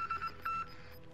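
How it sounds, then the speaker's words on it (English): A phone ringing in Call of Duty: Modern Warfare, heard as faint electronic beeping tones in short repeated bursts over a quiet background. "Why is this fucking phone keep ringing, bro?"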